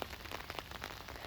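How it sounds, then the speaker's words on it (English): Heavy rain falls in Atlanta, its drops pattering densely and irregularly on a nearby surface, quiet and steady for a moment with no voices. "We were expecting some heavy downpours, heavy rainfall earlier today and all throughout the night"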